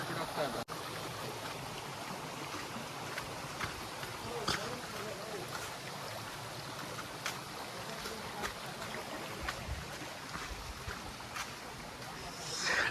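A stream near Muthyala Maduvu falls in Anekal rushes in a steady, broad wash of flowing water, close and continuous, with faint voices mixed in.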